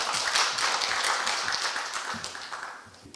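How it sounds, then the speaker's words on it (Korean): Audience clapping at an academic conference as the final panel discussant is introduced, a dense, steady patter of many hands that holds evenly and tapers slightly toward the end. "큰 박수 부탁드립니다."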